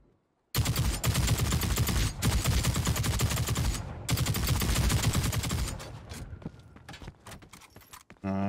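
Light machine gun fire in the shooter game The Cycle: Frontier, a loud sustained rapid burst of rounds for several seconds, then tapering into scattered mechanical clicks and rattles.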